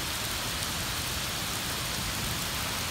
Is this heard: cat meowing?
no